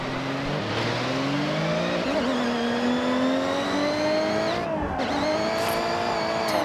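BMW M1 drift car in Forza Horizon, engine revving hard through rising and falling pitch sweeps while the tires squeal continuously, loud and close throughout, with no talk.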